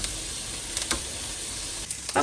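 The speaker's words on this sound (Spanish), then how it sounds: "vamos a poner chorizo, yo aquí puse medio kilo y lo vamos a dejar que se empiece a freír" Chorizo frying in its own rendered fat in a pan, a steady bright sizzle with a few short crackling pops, heard close and alone.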